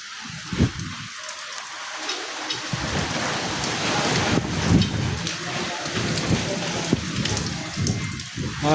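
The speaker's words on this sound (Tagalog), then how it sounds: "sobrang lakas ng hangin" Strong wind roars and gusts through a storm, mixed with heavy rain and rumbling bursts, loud and close throughout.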